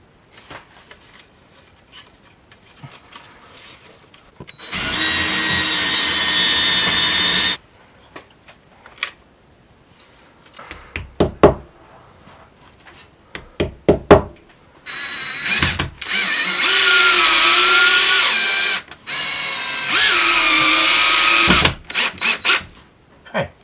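A power drill bores holes into a workshop wall for cabinet brackets, running in three loud sustained bursts separated by quiet stretches of scattered clicks and handling knocks.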